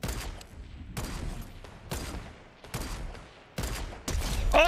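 A sniper rifle fires in a Fortnite match. About five sharp, loud gunshots come at irregular intervals, each with a long decaying tail and quieter gaps between them.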